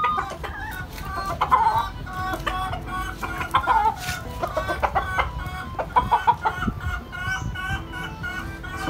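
A seven-month-old Sweater gamefowl rooster clucks and makes short crowing calls close by in a farmyard, in repeated bursts over a busy background with other birds.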